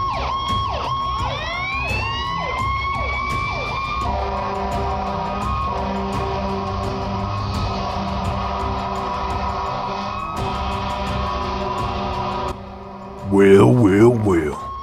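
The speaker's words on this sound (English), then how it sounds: "What's that noise? Sirens!" Police sirens in the video game Minecraft during a prison break scene: loud wailing sirens rising and falling, then a sustained layered siren tone with game sounds, cut off near the end by a brief burst of other noise.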